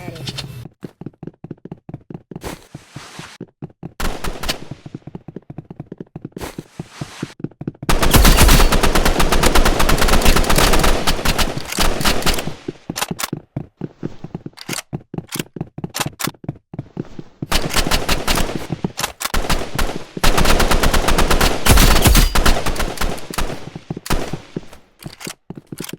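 Rapid automatic gunfire from the Roblox Rivals video game, with dense bursts of shots that come in waves, loud and close, with short gaps between volleys.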